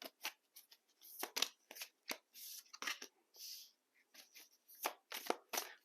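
Tarot cards being shuffled by hand, a quick sequence of crisp riffling and slapping bursts with brief pauses between, close and fairly quiet, with no talking.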